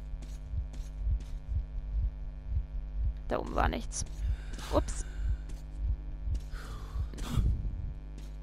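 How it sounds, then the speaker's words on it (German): A steady heartbeat pulse throbs in the ears in the video game Metro Exodus, its low, regular thumps continuing under a droning hum while someone speaks briefly. "wieder den Puls in den Ohren"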